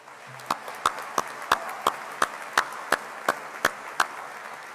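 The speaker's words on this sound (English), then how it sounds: "Could we give them a round of applause?" A sparse, slow round of applause for honorees at a college Founders Day convocation, with distinct individual claps spaced evenly and fairly loud in a large room.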